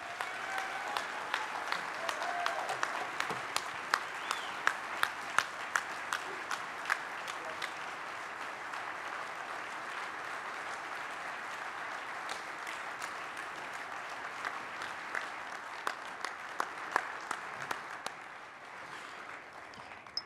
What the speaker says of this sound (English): Ladies and gentlemen, one more round of applause for Dan Adler.